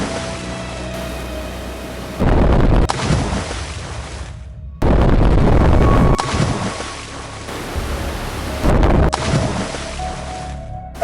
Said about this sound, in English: The aircraft then ultimately crashed into the water below.